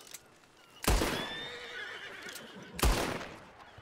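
A horse in the video game Red Dead Redemption 2 neighs and whinnies, two sharp loud onsets a couple of seconds apart, each trailing into a wavering whinny, with faint hoof clops and no talking.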